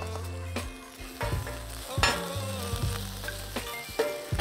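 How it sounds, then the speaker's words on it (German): Green asparagus and garlic roast on a hot plate over a fire barrel, a sizzle punctuated by repeated metallic scrapes and clinks of a utensil, close and without talk. "Jetzt tue ich mal hier meinen Spargel kurz drauf. Wir braten den an."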